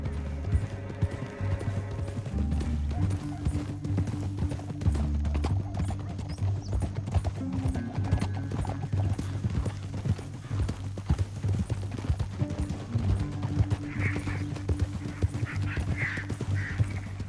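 Horse hooves clip-clop steadily throughout in Red Dead Redemption 2, a continuous rhythmic trot under a low droning musical score, with faint quacking birds near the end and no talk.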